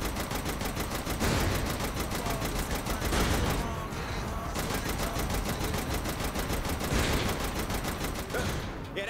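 Mounted turrets in Saints Row: The Third fire dense, continuous automatic bursts, a loud sustained fusillade with brief lulls, mixed with explosions and combat noise.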